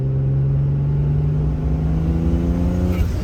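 Turbocharged BMW E30 with an M50 engine under light throttle, a loud steady engine drone with a rising turbo spool whine, close and continuous.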